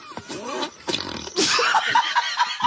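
A person imitates armpit farting, making a series of wet, squelchy, sputtering blasts in quick bursts, close and loud, with laughter-like snickers between them.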